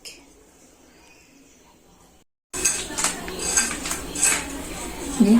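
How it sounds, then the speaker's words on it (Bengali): A knife cutting up fresh katla fish, with sharp clinks and scraping knocks that start after a brief near-silent pause and continue close and fairly loud. "কাতল মাছটা কেটে নিচ্ছি"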